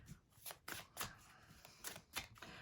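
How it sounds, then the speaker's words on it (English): Tarot cards are shuffled by hand in a quiet indoor setting, giving a series of crisp riffling bursts in an irregular rhythm, close and soft, with no talking. "I'm putting this cards into the deck, shuffling."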